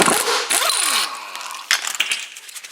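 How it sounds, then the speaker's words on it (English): Impact gun hammering a nut off a BC Racing coilover strut for a fifth-generation Camaro, loud close bursts of rattling whir with a rising and falling pitch, a pause, then a second shorter burst. "I have an impact gun, so I'm going to go ahead and impact this off"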